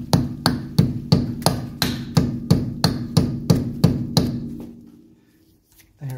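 A greased dust cap is tapped back onto the wheel hub of a 1983 Mercedes 300SD with about a dozen sharp, evenly spaced hammer blows, close and loud. The blows stop and a brief silence follows.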